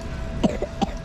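Two or three short, soft coughs from a person indoors, quiet and closely spaced within a second over faint background noise.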